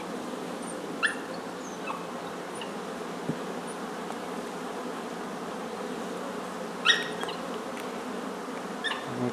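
Honeybees hum steadily around an open hive box during inspection of a newly split colony, a low continuous drone with a few brief higher insect buzzes passing close, and no talking.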